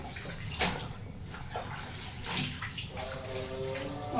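Water splashing and sloshing as clothes are washed by hand, with bursts of slapping and churning water over a steady running-water wash, fairly close and moderately loud.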